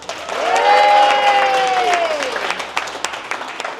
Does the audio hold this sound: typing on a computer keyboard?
no